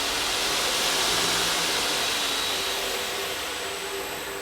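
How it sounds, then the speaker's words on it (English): Electric 1.5 kW motor of an 84 Engineering 2x72 belt grinder spinning up on a variable frequency drive, a loud continuous whooshing whine filling the shop and easing slightly toward the end. "So if I run it forwards and then increase the speed, you can hear it increasing behind me."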